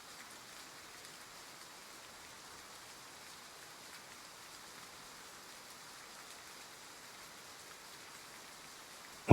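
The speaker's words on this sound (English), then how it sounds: "We'll leave once the rain stops." Steady rain falls in the video game Love and Deepspace, an even, hissing patter that holds at a soft level throughout with no voices.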